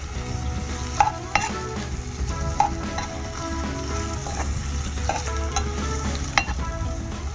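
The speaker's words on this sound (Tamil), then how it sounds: "ஆனியன் இன்னும் கொஞ்சம் குக் ஆகணும்" Onions sizzle and crackle steadily in a hot pan while being stirred for shrimp pasta, with scattered scraping clicks from the utensil and no talking.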